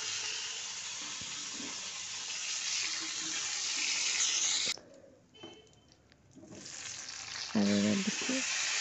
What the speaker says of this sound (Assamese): এতিয়া মই ফুলকবি ফ্ৰাই কৰা হ'ল।